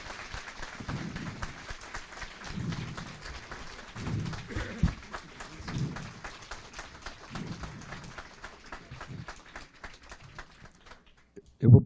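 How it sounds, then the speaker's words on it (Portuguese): A lecture audience at an event celebrating the 80th birthday of Fernando Henrique Cardoso applauds with sustained, crackling clapping that continues under a speaking voice and ends with a couple of louder bumps near the microphone. "uma salva de palmas para"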